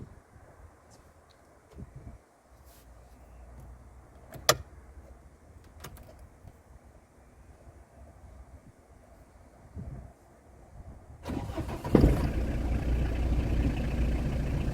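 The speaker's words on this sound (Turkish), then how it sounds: "Şöyle bir marş yapalım beraber." A car engine turns over and catches near the end, rising into a steady, loud idle after quieter rustling and clicks; the car's tachometer had a fault, and the instrument wiring was being repaired.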